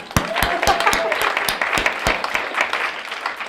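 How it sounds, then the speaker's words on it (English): A room full of people breaks into a round of applause at a civil discourse discussion event, dense claps with sharp individual hits standing out, close and steady before slowly thinning. "can you get a round of applause for that?"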